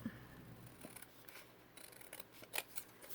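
Scissors trim a thin strip off the edge of a paper envelope, heard as a few faint, close snips and crisp paper rustles in a quiet room.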